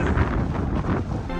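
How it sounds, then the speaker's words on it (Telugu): Strong wind at Sela Pass in the Himalayas buffets the microphone, a steady loud roar with gusty rumble filling the short stretch, with no voices. "ఆ భయంకరమైన గాలి తాకిడికి ఒక్క క్షణం కూడా నిలబడలేకపోతున్నాం"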